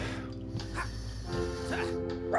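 Dog in the video game Stick it to The Man, a few short yips and barks over a low musical backdrop, close and fairly quiet.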